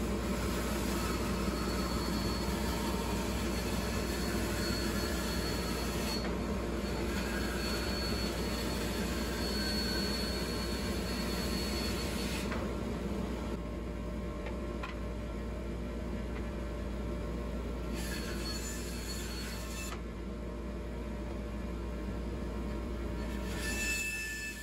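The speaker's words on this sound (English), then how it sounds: "I'm going to try to take this over to my bandsaw and raise the blade up and then just trace it straight across." A bandsaw slices across a wooden mailbox post, making a loud, continuous mechanical whine and rushing drone that holds steady throughout with no voices.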